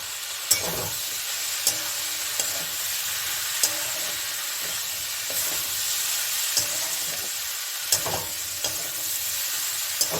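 Fried egg, potato and okra stirred in a hot pan, with a steady bright sizzle and sharp clicks from a spoon scraping the pan every second or so, close and alone with no voices.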